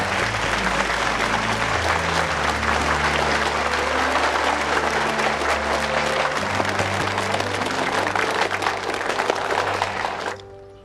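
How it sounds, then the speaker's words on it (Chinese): Applause from an assembled crowd at a factory ceremony presenting a long-overdue appointment certificate, sustained dense clapping that holds steady for about ten seconds before stopping abruptly, with a faint musical tone underneath. "大家鼓掌"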